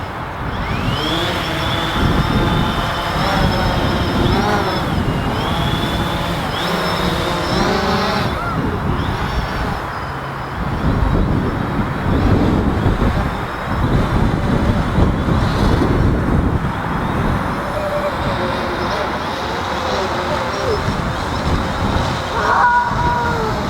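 A drone flying overhead after a firmware update, a continuous loud buzzing whine of rotors with shifting pitch and some roadway-like rumble, no talk.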